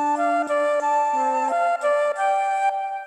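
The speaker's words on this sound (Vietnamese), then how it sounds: "Ok, tiếp theo đó là tiếng sáo." Synthesized flute voice from a keyboard accompaniment style, playing a smooth sustained melody of held notes with gentle steps between them, steady and clear with no talking.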